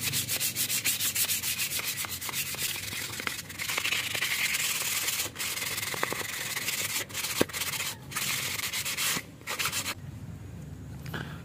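Scrap wood being sanded by hand, a continuous dry rasping rub with quick back-and-forth strokes, loud and close, pausing briefly a few times and then dropping to a quieter rub near the end.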